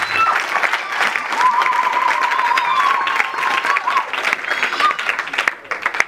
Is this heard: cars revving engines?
no